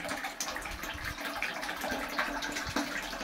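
Natural spring water runs from a hillside in the sierra of Puebla, a steady close splashing and trickling stream, alone and unbroken.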